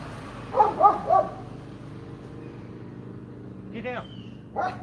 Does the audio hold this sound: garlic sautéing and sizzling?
no